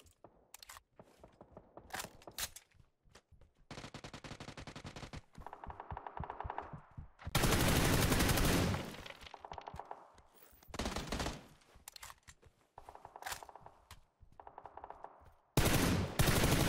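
Gunfire in PUBG, a mix of sharp single shots and longer automatic bursts of varying loudness, some near and some quieter, separated by short pauses with no speech.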